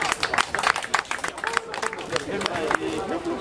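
An audience at a summer cosplay contest claps, a close, uneven burst of applause that tapers off, while a host talks and people chatter in the background.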